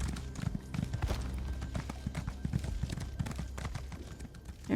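Hooves of a mushroom horse mount in Elder Scrolls Online clop in a steady, quick rhythm, close and moderately loud, with ambient game sounds underneath.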